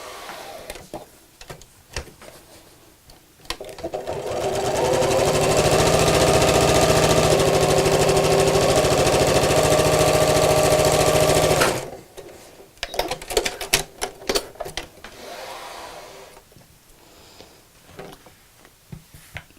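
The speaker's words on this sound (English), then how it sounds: "I'm going to sew just underneath the elastic here" A sewing machine runs steadily for about eight seconds, stitching along fabric just beneath a band of elastic on a phone charger holder, with quieter handling noises before and after.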